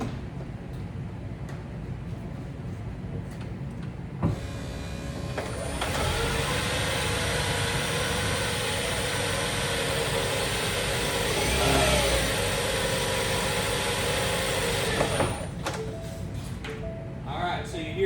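A Ford Fusion Hybrid with a failing HF35 transmission and bad bearings, giving a sustained mechanical whine and drone for about ten seconds over the engine, fairly close and steady.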